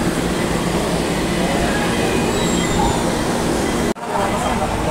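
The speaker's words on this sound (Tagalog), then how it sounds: "Train, train, train, train." A train pulls into a station, a loud steady rumble of rail cars with faint wheel squeal, briefly cut off near the end.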